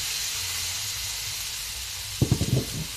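A steady, bright frying sizzle of tuna in a pan hisses throughout, with a few short knocks or clatters near the end.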